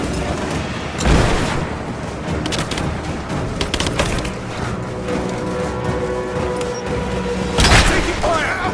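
Gunfire and heavy booms in the video game Rise of the Tomb Raider, with sharp loud blasts near the start and end over a busy rattle of shots and debris, with game voices mixed in.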